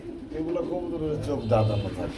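Pigeons coo at a busy pigeon market, low murmuring calls running steadily beneath close conversation between buyers and sellers.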